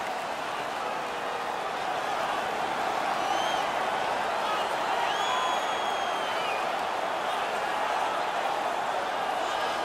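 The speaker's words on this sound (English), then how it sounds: "The crowd is ecstatic." An ecstatic crowd cheers in an NHL 19 ice hockey video game between the Vancouver Canucks and San Jose Sharks, a dense, steady roar of arena noise throughout at an even level.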